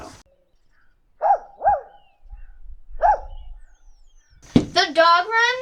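Dogs bark at a campground dog run in Indiana, a few separate barks at moderate distance, followed by a louder, closer whimpering yelp near the end.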